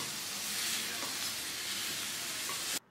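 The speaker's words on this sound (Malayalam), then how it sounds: "ഇനി ഇതൊന്ന് സ്പൂൺ കൊണ്ട് നല്ലപോലെ മിക്സ് ചെയ്ത് കൊടുക്കണം." Marinated rabbit meat is stirred with a spoon into masala sizzling in a pan for a Kerala rabbit roast. A steady close frying hiss runs throughout and cuts off abruptly at the end.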